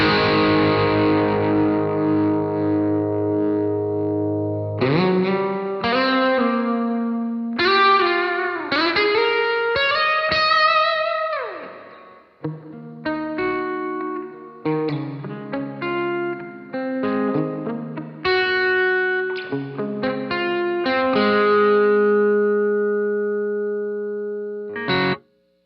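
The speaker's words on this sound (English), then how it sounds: "let's just see how high the reverb goes" Distorted electric guitar through a Peavey Rage 258 amp plays sustained chords and quick riffs, notes ringing out with a long reverb tail; a brief gap midway, then playing resumes.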